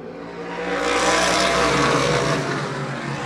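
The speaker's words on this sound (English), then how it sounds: "The sound of those modifieds just bounces off the backstretch wall." Modified race cars roaring past on an oval track, their engine noise echoing off the backstretch wall, a broad loud rush that swells toward the middle and then eases slightly as the pack moves away.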